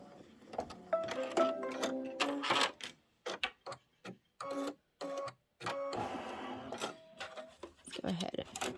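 An embroidery machine stitches a placement tack-down line on a Halloween-themed pillow, giving bursts of rapid mechanical stitching that start and stop in short runs, close and fairly loud, with someone talking over parts of it.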